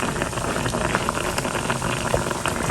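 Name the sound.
water poured into frying spice paste for curry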